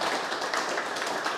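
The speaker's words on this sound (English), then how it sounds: "How about a round of applause?" An audience at a radio club meeting applauds, a steady even wash of clapping from many hands that runs the whole time without pause, at moderate loudness and with no voices over it.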